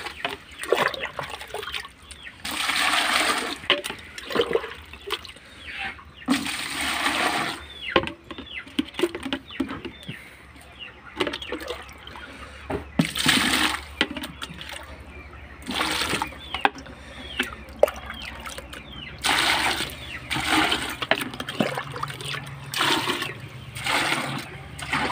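Water poured into chick drinking containers on a broiler farm in Nepal, coming in repeated splashing bursts separated by short pauses, with faint chick peeping in the background.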